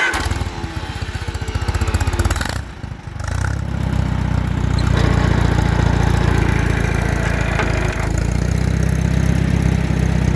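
A running Allis-Chalmers WD tractor engine with a mounted disk, its steady low chugging close and loud. The engine dips briefly around the third second, then settles back into a constant, slightly rattling drone.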